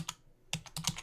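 Keystrokes on a computer keyboard, with the enter key pressed while entering a spreadsheet formula: a few crisp, close clicks, one early tap, then a quick cluster of taps toward the end, with no voices.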